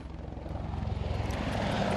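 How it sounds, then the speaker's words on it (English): American Apache attack helicopters fly over an island during attack drills, heard as a loud, continuous rotor and engine roar with a steady low throb that swells slightly and holds close throughout. "American Apache attack helicopters are thundering over the island, practicing attack sorties"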